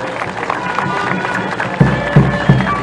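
Crowd applause welcoming the first maxi bag of lithium carbonate at the opening of an industrial plant in Bolivia, steady clapping and cheering under a murmur of voices, punctuated by a few heavy low thumps toward the end.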